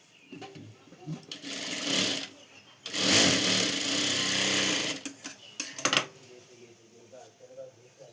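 A sewing machine stitches back tucks on a katori blouse in short bursts, with a longer run in the middle and brief start-stop whirs near the end. It is loud and close, and fabric handling sounds fill the pauses.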